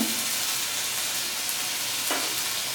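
Chopped ingredients frying in a pan for a taro (gathi kochu) mash give a steady, close sizzle that runs throughout, with a brief scrape or stir just past the two-second mark.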